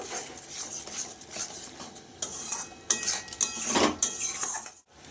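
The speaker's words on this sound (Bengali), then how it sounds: "সব কিছু দিয়ে মশলাটা আমি এবার ভালো করে কষিয়ে নেব" A spice paste with a little sugar stirred and fried in a pan, with a metal spoon scraping and clinking against the pan in uneven strokes over a light sizzle, close and with no talk.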